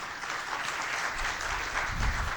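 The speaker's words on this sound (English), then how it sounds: "Please give him a big round of applause." Audience applause at a conference hall fills the space, steady dense clapping from a large crowd, sustained and even with no voices.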